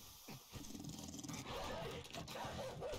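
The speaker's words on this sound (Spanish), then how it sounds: "¡Guau, tío, el puto perro!" A zombie dog in the survival game 7 Days to Die growls and snarls, loud and close, over steady background game noise.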